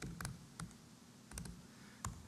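Someone types on a computer keyboard during a live conference demo, a handful of sparse, quiet key clicks spaced out over a couple of seconds against low room noise.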